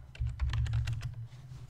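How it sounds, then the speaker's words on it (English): Quick bursts of clicky key presses on a computer keyboard, close and clear, tapping out a short command in an uneven rhythm for under two seconds. "So I think you just type live and live."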